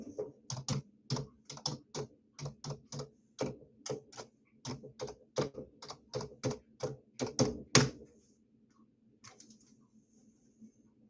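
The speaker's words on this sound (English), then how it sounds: "let me retype my email so you can just copy and paste it" An email being typed on a computer keyboard produces a steady run of close, crisp keystrokes for about eight seconds, then a few faint, sparse taps.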